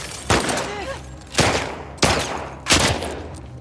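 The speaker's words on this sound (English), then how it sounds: "Oh, I'm being shot." Four heavy gunshots in The Last of Us Part II, each a sharp, loud blast with a reverberant tail, spaced irregularly about a second apart and striking the player.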